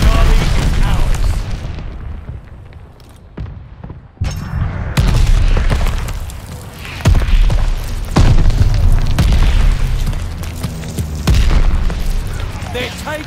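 Mortar shell explosions in the video game Call of Duty Vanguard, a multiplayer match: heavy booming blasts and scattered gunfire, loud and dense, with a brief quieter lull partway through.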